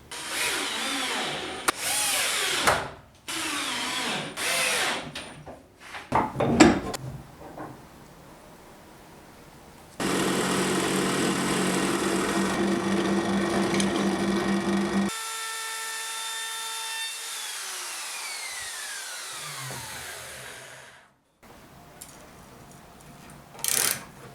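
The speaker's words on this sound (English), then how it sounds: "trim the edge around the top with a router" A power router whines steadily as it trims the top edge of a wooden workbench, then the motor hums on its own and winds down with a falling pitch.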